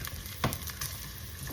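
Garlic sautéing in reheated oil for a Filipino squash and string bean dish, a steady close sizzle of frying with a brief louder stir or clatter partway through, no talking.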